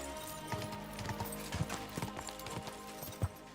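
Horse hooves clip-clop in steady rhythm within the medieval open-world game Kingdom Come Deliverance II, moderately close and alone, with periodic louder hoof strikes.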